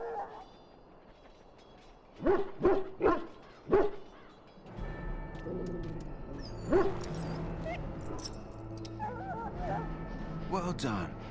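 A dog in a pen in the video game Dragon Age: Origins gives a quick run of four sharp barks or yelps, then quieter whimpering under steady background ambience and game sounds, with voices speaking.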